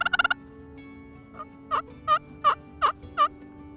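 Wild turkey toms gobbling in the woods during a spring youth hunt: a quick rattling burst at first, then a series of distinct gobbles spaced roughly evenly, moderately distant and clear with no talk.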